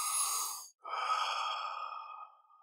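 A deep breath drawn in, a brief held pause, then a long, steady exhale that slowly fades, close and clear with no talking.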